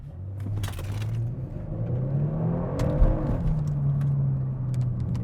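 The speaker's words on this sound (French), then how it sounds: "j'ai mis le pied sur le frein, dans le fond, puis le pied sur le gaz. Ça s'appelle du launch control." A Kia car in sport mode does a launch-control start, its engine held on the brake then revving hard and pulling away, a loud, rising roar that climbs in pitch and stays close throughout.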